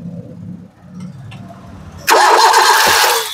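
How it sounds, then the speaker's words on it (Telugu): Faint background hum, then the engine of a 2010 Suzuki Swift LXI with a CNG kit cranks and catches abruptly on the first try, settling into a loud, close idle. "సింగిల్ సెల్ఫ్ లో కార్ స్టార్ట్ అయితే ఎటువంటి స్టార్టింగ్ ట్రబుల్ అయితే లేదండి"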